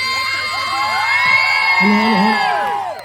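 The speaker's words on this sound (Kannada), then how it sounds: "ಆನ್ ದ ಕೌಂಟ್ ಆಫ್ 3 2 1 ಚಪ್ಪಾಳೆ" A festival audience shouts and cheers together, loud and close, with whoops and children's high voices over a dense crowd roar that swells and then eases toward the end.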